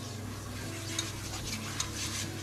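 Butter roux browning in a pan for a kohlrabi dish gives a soft, steady sizzle with a few faint stirring scrapes, quiet and close, over a low hum.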